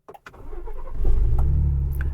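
A Ford Bronco engine cranks with a few quick clicks, then catches and settles into a strong, close idle rumble that swells and holds steady.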